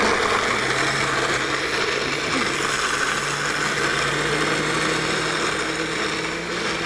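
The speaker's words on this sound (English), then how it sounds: "We're going to just blend these up in the blender." Carrots with seasoning and salt whirring in a lidded kitchen blender, a steady, loud, continuous motor drone with a constant high buzz that holds unchanged throughout, no talk over it.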